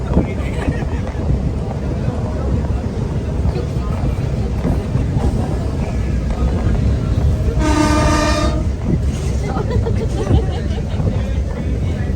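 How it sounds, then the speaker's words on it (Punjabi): A train rumbles along steadily with a low, constant roar and clatter, and a horn sounds midway through. "ਟ੍ਰੇਨ ਚੱਲ ਪਈ ਸਾਡੀ"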